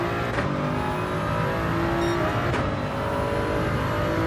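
A Toyota Supra's engine drones steadily in Gran Turismo 7, a loud continuous in-car hum with sustained tone and no talking over it.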